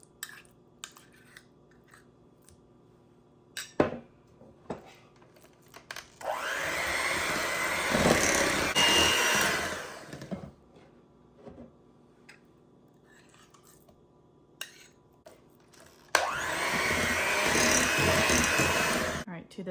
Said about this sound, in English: I'm just going to blend this until it's smooth and creamy.